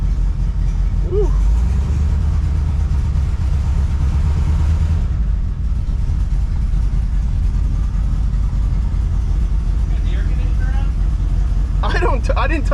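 A 1968 Cadillac Coupe de Ville's engine runs steadily in a close, loud low rumble without pause, with people talking over it at times.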